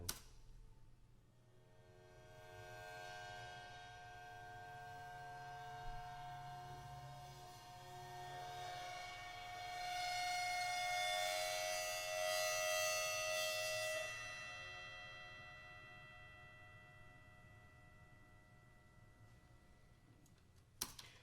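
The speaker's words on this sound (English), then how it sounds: "me bowing with a violin bow against the side of a right cymbal" A long, eerie metallic drone from a violin bow drawn across the side of a ride cymbal, with shimmering, sustained tones that swell slowly to a bright peak and then fade away.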